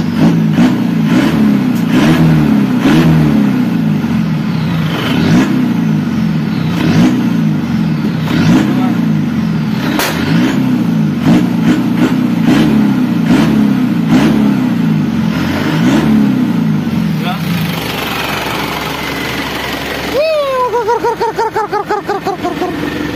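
Isuzu Panther turbo diesel engine revved repeatedly, close and loud, with rhythmic surges of rising and falling engine pitch for most of the stretch, then settling down as faint voices and background noise take over near the end.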